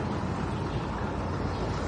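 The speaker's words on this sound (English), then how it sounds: "That is a big freaking loud boat." A steady, low engine drone from a boat fills the scene, a continuous rumble with no voices over it.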